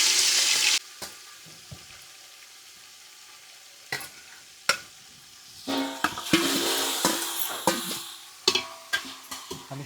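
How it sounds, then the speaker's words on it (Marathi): Oil heating and frying in a pan for a village chicken biryani: sharp spatters and clanks of stirring, with a burst of sizzle at the start and denser crackling bursts later on. "आता तेल उकळायचे, आपण फक्त वाट पाहिजे"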